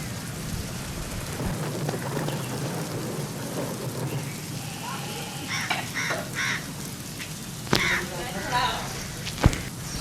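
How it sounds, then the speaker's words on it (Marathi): Heavy monsoon rain pours steadily in Ratnagiri, a dense broadband hiss running throughout, with a few sharp cracks and brief bird-like calls rising above it near the end. "मुसळधार पाऊस झालाय."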